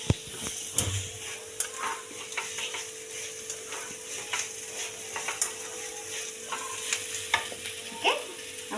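Curry leaves and other tempering ingredients frying in oil for kozhukatta until lightly browned: a continuous soft sizzle with scattered clicks and scrapes from stirring in the pan.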